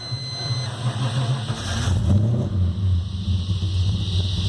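A Holden VB Commodore engine with a flat battery runs lumpy and uneven, a low rumbling idle with slight rises in revs, moderately quiet and heard alone.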